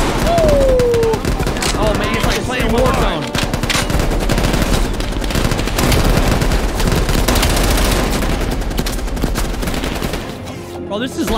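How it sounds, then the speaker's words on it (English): Bursts of automatic and single-shot gunfire in Call of Duty Black Ops Cold War, loud and nearly continuous over a game soundtrack, dense volleys that ease off near the end. "It's like there's gunfire."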